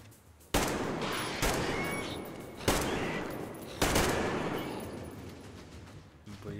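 Gunfire bursts in Metro Exodus on Ranger Hardcore difficulty: four sharp, loud volleys of rapid shots, roughly a second apart, each fading into a ringing tail.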